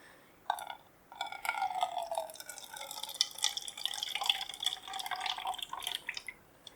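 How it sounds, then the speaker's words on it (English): Vinegar is poured into a glove for a home baking-soda experiment: a faint trickle and drips that start abruptly, then a close, continuous splashing pour with bright wet patters. "I'm going to be pouring the vinegar"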